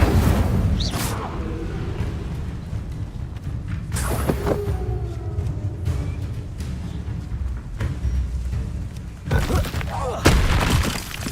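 A fire spell cast in Hogwarts Legacy on PC, with repeated booming bursts and whooshes, several sharp impacts spread through the clip over a steady game background.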